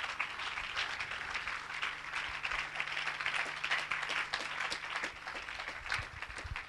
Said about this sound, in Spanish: Démosle un aplauso al Señor Jesucristo